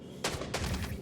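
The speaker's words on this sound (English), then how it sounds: "I can't see who's shooting me." Gunfire in the video game Star Citizen, two sharp bursts of shots in quick succession, fairly close and punchy over a low background rumble.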